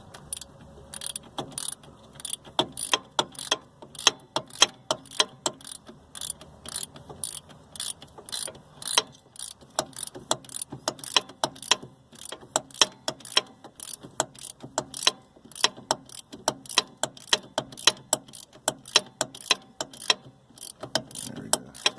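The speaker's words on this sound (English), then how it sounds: "I'm going to go ahead and tighten these down." Strut bolts on a 2001 Toyota Corolla being tightened with a ratchet, bursts of rapid close clicking repeating through the whole stretch with brief pauses between strokes.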